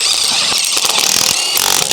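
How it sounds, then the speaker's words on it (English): An impact wrench with a 19mm deep socket tightens the lug nuts on a 2011 Ford Explorer 3.5L, a loud, continuous, close rattling hammer-whir with no talking. "Use a 19mm deep socket with an impact wrench to tighten the lug nuts"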